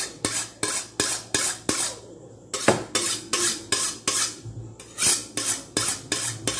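A knife works through meat on a board during a home dinner in northeastern Brazil, with a steady series of sharp, close strokes and scrapes.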